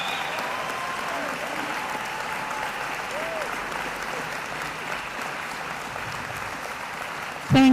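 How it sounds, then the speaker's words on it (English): Audience applauding graduates at a Unisa autumn graduation ceremony, sustained clapping from a large crowd at moderate distance, with faint voices mixed in and a brief tone at the very end. "may you please give them a round of applause"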